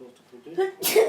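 After brief speech, someone nearby lets out a single sharp sneeze at the end.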